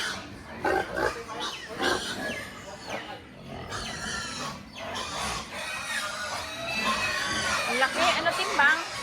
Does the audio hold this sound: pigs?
yes